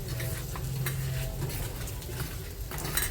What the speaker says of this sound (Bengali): এবার কিন্তু আমি মাছটা ভেজে নেব